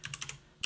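Keystrokes on a computer keyboard during a Photoshop session: a quick run of four or five close, crisp taps, a pause, then one more sharp press, fairly soft with no voice.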